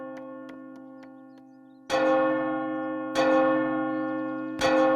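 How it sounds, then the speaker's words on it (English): A cartoon firehouse bell clangs loudly across the countryside, three ringing strikes spaced over several seconds with long resonant decay, following a faint sustained tone and light taps; no talking. "When the firehouse bell rang across the countryside, the volunteer firefighters responded."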